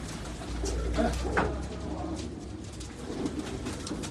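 Pigeons coo softly and repeatedly at close range on a Karachi rooftop over a low steady hum, their throaty calls overlapping in a gentle continuous murmur.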